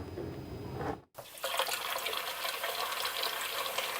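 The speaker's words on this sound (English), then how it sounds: "the water that comes out of their faucets is ice cold" Tap water runs steadily from an apartment faucet into a sink, a continuous close rush with a brief break near the start, then flowing on without pause.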